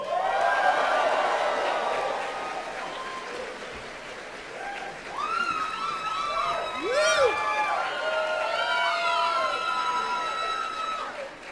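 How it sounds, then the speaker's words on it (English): A comic convention panel audience cheers and whoops as a voice actor is introduced, with loud, rising shouts and high whistling cries over crowd noise that swells midway and stays lively. "You have your own cheering section."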